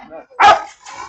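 At a dog market in Fergana, a dog gives a single sharp, close bark, with softer whining yips before and after it.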